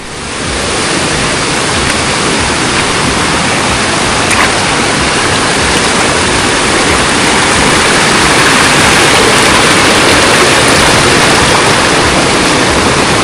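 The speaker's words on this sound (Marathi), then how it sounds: "वरून जो धबधबा येतोय हा जो धबधबा येतोय हा पूर्ण असा खाली जातो" A waterfall at Ganpati Gadad cave in the Sahyadri hills pours down in a loud, dense, unbroken roar that fills the whole scene and stays steady throughout, with no voices.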